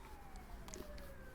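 Ambulance siren passing outdoors, a faint continuous wail sliding slowly downward in pitch as it moves off, heard at a distance behind low background noise.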